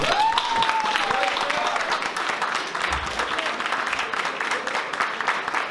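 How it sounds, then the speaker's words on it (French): Audience ovation for Nicolas Martin at the Young Nice Artists Festival at the AC Hôtel, a steady dense clapping wash sustained for about six seconds with faint voices and a brief whistle-like tone early on. "Et je voudrais quand même que vous refassiez une ovation, et pas 3 petits applaudissements"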